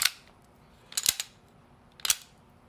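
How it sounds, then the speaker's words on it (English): A Sig P228 pistol is decocked and dry-fire function checked: sharp metallic clicks and snaps come in three short clusters, close and crisp against near silence. "decock it, do a function check, and you're good to go."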